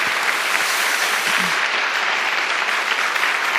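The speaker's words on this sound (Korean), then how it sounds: "우리 하나님께 영광의 박수를 돌립시다." Loud, continuous applause from a congregation at a church conference gathering, a thick even roar of clapping sustained throughout.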